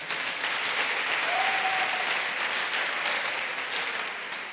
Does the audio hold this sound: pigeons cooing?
no